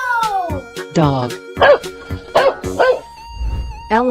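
A dog barks in an animal slide video game, several short yipping barks mixed with bright game sounds and a cheering voice.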